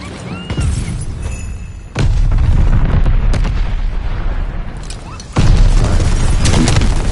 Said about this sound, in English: Bro, that fucking nade was so far away, dude.